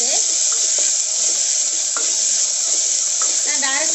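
Tomatoes hit hot oil with a loud, constant hissing sizzle, close up, with occasional scrapes and taps of stirring and a faint voice in the background.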